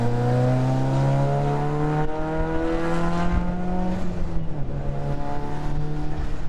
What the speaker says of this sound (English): it's just a little too loud with the straight exhaust, no resonator on it